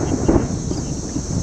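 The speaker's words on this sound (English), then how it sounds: "Yes, and thunder. Very, very close." Very close thunder from a tornadic supercell in northern Illinois, heard from inside a car as a loud, continuous low rumble filling the whole short stretch.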